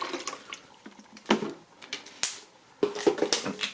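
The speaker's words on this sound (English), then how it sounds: "I'm just going to put some water in there so we can give it a trial run." Water is poured into an Igloo portable ice maker, heard as faint, intermittent splashing and trickling bursts with soft plastic knocks in between, close by and fairly quiet.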